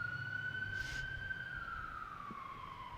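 A faint emergency vehicle siren wails in the distance, one long, slowly falling tone over quiet ambient hum.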